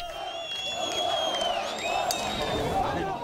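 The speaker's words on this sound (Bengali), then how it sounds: "সে রাতে শুরু হয় ফিলিস্তিনিদের বিজয় উল্লাস।" A crowd of Palestinians celebrates a night-time victory, with sustained cheering, whoops and shouting blending into a dense, steady roar of voices outdoors.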